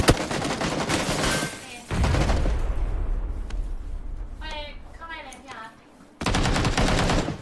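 Rapid automatic gunfire bursts in a shooter video game, loud and close, stopping for a stretch then resuming, with a player talking over parts of it.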